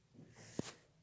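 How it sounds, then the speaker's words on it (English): A single short sneeze bursts out once midway through an otherwise quiet stretch, brief and fairly faint. "this is sneeze"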